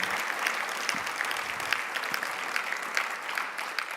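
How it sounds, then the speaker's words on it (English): A conference audience applauds steadily in a hall, the clapping fairly soft and distant, with a few sharper claps standing out over four seconds. "How about a big round of applause for Lisa Nelson and the amazing team here at ALEC"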